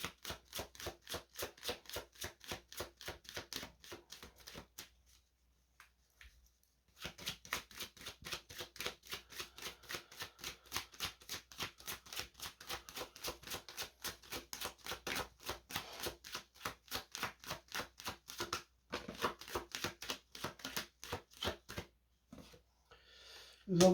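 Tarot cards are shuffled and drawn in a long run of quick, crisp riffling flicks, stopping briefly twice before the flicking resumes, soft and close by.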